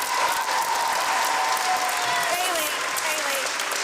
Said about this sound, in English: How about a round of applause for the sixth graders?